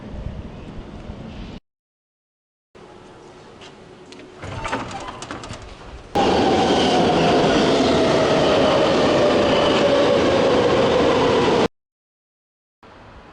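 A Brussels metro train running, with a steady loud rumble and rail roar, a descending whine as it moves, and short quiet gaps before and after.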